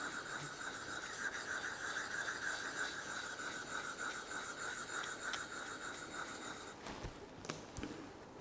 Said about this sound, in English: We'll go to the extra fine sanding stick now.